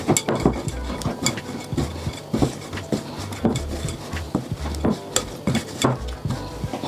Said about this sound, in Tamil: நாங்கள் இனி வந்து கையை வச்சு நல்லா பிணைஞ்சு குழைக்கலாம்